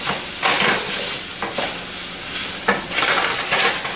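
Pork chops browning in butter in a pan make a loud, continuous close sizzle and crackle that swells and eases in waves, with faint scraping between bursts.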